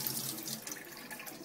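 Distilled water runs from a tap over soaked ingredients for bliss balls, a steady, soft stream splashing continuously.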